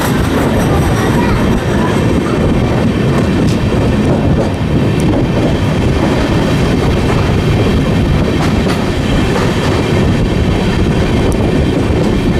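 Amrit Bharat Express on the Brahmapur–Udhna run between Raipur and Nagpur, rolling steadily with loud continuous rumble and rhythmic clickety-clack of wagons over the rails, heard from on board.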